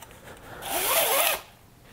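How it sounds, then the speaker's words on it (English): A snowblower's recoil starter rope is drawn out in one long, steady pull, giving a loud rising zip-like rasp that lasts under a second before settling back to quiet. "pull on the recoil until you're right at the end of the rope"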